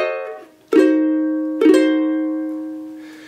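Ukulele chords for a measure of a rag, two bright strummed chords that each ring out and slowly fade, heard close and alone.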